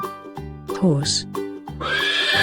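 A farm horse gives a short whinny that rises and falls, then a longer neigh closes the moment, both heard over light background music.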